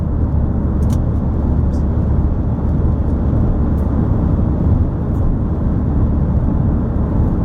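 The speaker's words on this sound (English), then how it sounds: "quite a bit of traffic on this freeway right now" Heavy freeway traffic around Columbus, Ohio rolls past a moving car as a loud, continuous low road roar and tire rumble, heard from inside the vehicle and steady throughout.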